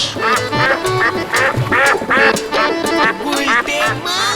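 Duck quacking in a Bengali cartoon, a rapid run of loud nasal quacks repeating in quick bursts throughout, close and upfront with no other sounds.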